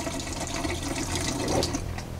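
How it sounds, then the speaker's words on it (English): RV antifreeze poured down the kitchen sink drains of a Coachmen Catalina travel trailer, giving a steady close splashing gurgle of liquid running into the drain for a couple of seconds, with no talk. "now we're just going to pour a little bit straight down the P-traps there, or down the sink drains to get into the P-traps"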